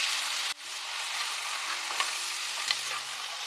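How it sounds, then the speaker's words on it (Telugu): Onion frying in hot oil for a tamarind fish egg curry gives a steady, close sizzle that dips sharply as the onion goes in, then crackles on with occasional stirring clicks. "ఇప్పుడైతే ఉల్లిపాయ వేసేస్తున్నాను."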